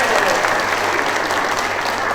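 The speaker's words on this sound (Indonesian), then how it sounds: "tepuk tangan." Dense, steady applause from an audience at a political address in West Java, continuous and loud for the whole stretch with no break.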